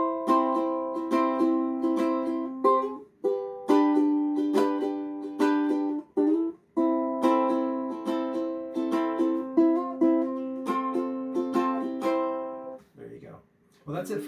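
A plucked ukulele plays a bright, rhythmic strummed pattern with sliding notes, steady and close, pausing briefly a few times before ending.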